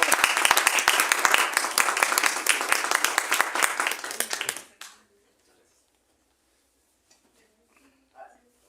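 At a book presentation, the audience gives a burst of loud, dense applause for the author that stops abruptly partway through, leaving near silence with a few faint shuffles and a brief murmur afterward.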